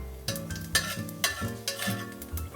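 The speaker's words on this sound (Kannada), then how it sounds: "ಬಿಸಿ ಆದ ತಕ್ಷಣ ಇದಕ್ಕೆ ಸಾಸಿವೆ, ಅದು ಚಟಪಟ ಅಂದಮೇಲೆ" Mustard seeds crackle and pop in hot oil with cumin stirred in, giving a steady sizzle broken by sharp irregular pops and a few utensil scrapes, close and fairly loud.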